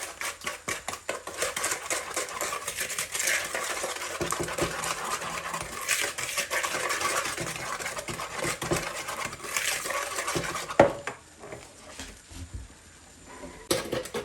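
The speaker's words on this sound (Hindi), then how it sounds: "और फिर से इस शुगर को अच्छी तरह मिक्स करें इसमें अंडों में" Eggs and sugar are whisked together for egg halwa, a busy rapid clinking and tapping of a whisk against a bowl that runs steadily, then thins out toward the end with a few sharper knocks.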